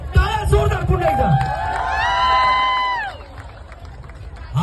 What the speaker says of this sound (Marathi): टाळ्या जोरदार पुन्हा एकदा